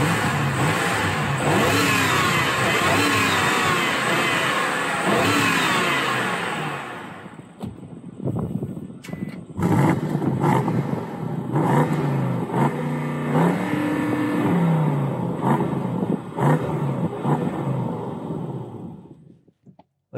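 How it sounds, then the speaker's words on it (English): Exhaust of a 2020 BMW 750Li with a 4.4-liter twin-turbo V8, heard close up: a sustained high rev, then a drop, then a series of sharp blips and revs that finish in a fade toward idle. "I think it's a good time now to throw in some exhaust notes"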